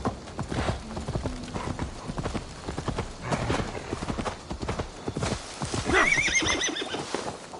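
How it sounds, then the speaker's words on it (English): In Assassin's Creed Valhalla, a horse's hooves clip-clop in a rapid galloping rhythm throughout, with a loud whinnying neigh near the end, while people talk over it. "Stop that horse!"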